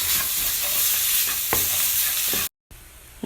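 Tomato paste sizzles and fries in an eggplant and potato stew pot while a spoon stirs it close up, with scraping strokes over a steady hiss and a brief dropout near the end.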